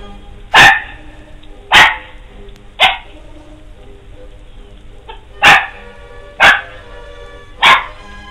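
A dog gives six sharp, loud barks outdoors on an October day, spaced irregularly about one to two seconds apart, each one short and punchy against a quiet background.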